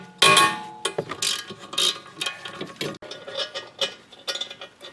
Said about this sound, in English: Now the 17mm on here on this breaker bar. Crack that loose and do the same thing on the top.